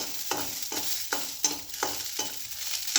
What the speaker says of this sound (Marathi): आणि ह्या सुक्या मिरच्या त्या पण चांगल्या भाजून घेऊया.